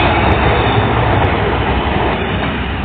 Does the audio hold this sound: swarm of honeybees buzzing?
no